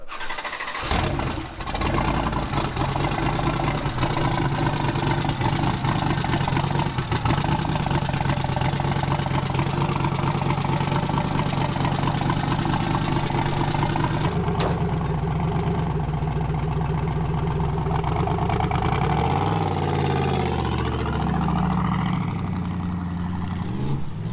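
A 650+ horsepower Ford Ranger race truck engine catches and settles into a loud, rough, lopey idle, a close, continuous throb with a shift in tone midway and rising revs near the end.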